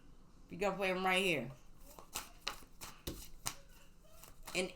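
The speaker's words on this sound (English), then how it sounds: "Let me shuffle." A short spoken phrase, then a series of crisp riffling and tapping sounds as tarot cards are shuffled up close, irregular and fairly quiet.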